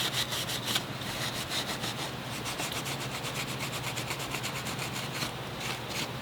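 Steady abrasive rubbing of a scuff pad across a VW cylinder head surface during timing belt and chain work, a continuous close scratchy scrubbing with quick repeated strokes and no talk.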